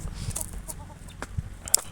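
Several native country chickens cluck softly nearby in short, scattered calls, with a few brief bright chirps and light rustling around them.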